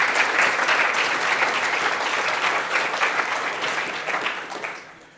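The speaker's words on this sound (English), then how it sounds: "Let's give them a round of applause for getting through the climate one." A live audience at a climate panel event gives loud, continuous applause, thick and even throughout before thinning out and tapering away in the final second.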